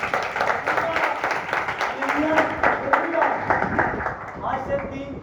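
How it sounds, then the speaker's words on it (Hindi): Clapping from a church congregation at a Sunday service rises in a steady, dense patter, fairly close, with speech mixed in throughout. "तालियां बजा दो अपने लिए"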